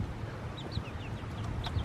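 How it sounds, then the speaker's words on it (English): Laying hens, one of them a small bantam, cluck softly in short scattered calls against a steady low background rumble. "These guys are my new laying hens."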